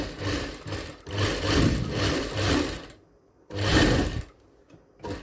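A sewing machine stitches a blouse along a marked line, running in loud steady close bursts with a brief pause near the middle and a short restart at the end.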